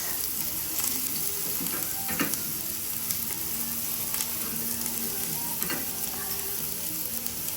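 Garlic frying in a pan for lechon paksiw, a continuous fine sizzle with occasional spatula clicks and stirs, fairly quiet and steady, no speech.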